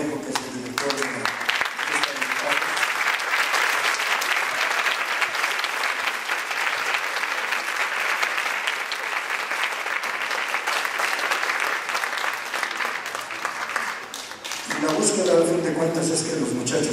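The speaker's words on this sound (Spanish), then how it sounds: "Quiero pedir un aplauso para el maestro Fernando Cornejo" Sustained audience applause for a choir director, dense even clapping from a crowd holding steady for most of the stretch, then fading as a voice and music return near the end.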